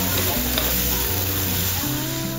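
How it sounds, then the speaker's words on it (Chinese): Lemon-leaf crispy eel with onions and scallions sizzles loudly in a hot clay pot at a Cantonese restaurant, a dense continuous hiss and crackle close up with some voices underneath. "这一煲的滋滋声是最响"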